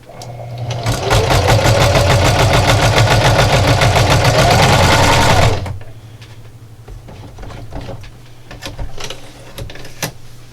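A sewing machine stitches the end of a pie plate coozie, a loud, rapid mechanical whir running about five seconds before stopping abruptly, followed by quiet handling noises.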